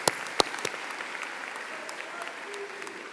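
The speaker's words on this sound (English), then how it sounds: "Give Ms. Hutchins and your staff, Atholton staff, a round of applause." Applause from an audience at the Atholton High School 2017 commencement, a broad steady wash of many hands clapping at moderate distance with a few sharper nearby claps.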